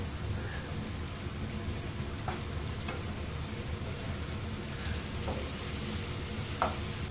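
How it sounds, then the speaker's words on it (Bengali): Sliced potatoes, cut long and thin, fry in a pan with a steady broadband sizzle, with a few soft stirring clicks and scrapes scattered through. "আলুটাও তো আমার সাথে ভাজা হয়ে যাবে"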